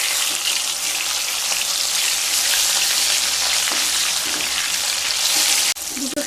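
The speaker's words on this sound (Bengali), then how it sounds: "তেল গরম হয়ে গেলে মাছগুলো ভেজে নেব" Rohu fish fry in hot mustard oil in a kadai, a loud continuous sizzle and crackle like heavy rain that runs steadily and then cuts off suddenly near the end.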